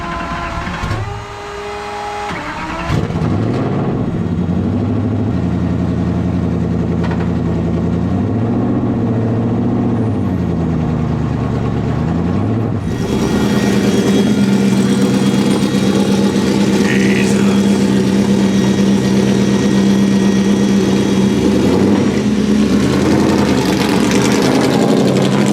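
An 800hp engine in a 1931 Ford race truck runs rough, idling unevenly and then revving up into a loud, sustained, close roar with a ragged, uneven tone.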